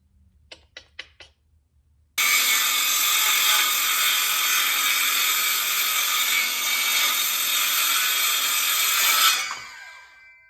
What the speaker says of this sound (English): I don't know if I want to rip a 5 1/2 inch board to 3 13/16 with the jigsaw.